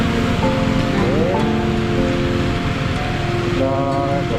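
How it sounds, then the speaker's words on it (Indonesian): Steady rain, falling fairly heavily, washes over a motorcycle ride through the city of Banjarmasin. The dense, even hiss is close and constant, with tonal hums and voice-like sounds running beneath it. "Kondisinya masih sama teman-teman, masih hujan sedikit-sedikit"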